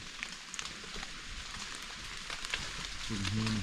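Heavy rain falls in a steady, dense hiss that stays even throughout, with a brief low tonal hum rising near the end.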